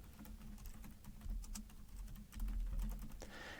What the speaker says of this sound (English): We can start typing their name in the search box here.